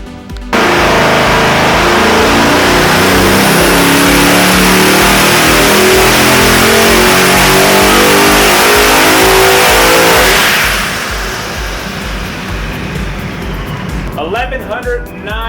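Engine of the Shelby Code Red prototype car, a 1,109-horsepower Nelson Racing Engines motor, roaring loudly and steadily up close at high revs for about ten seconds, then easing back to a lower, rougher idle.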